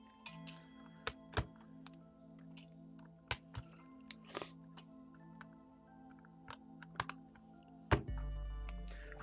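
Keycaps being pulled one by one off a computer keyboard during a custom keyboard build: sharp, sparse clicks and snaps close up, spaced irregularly over a low steady hum, with no talking.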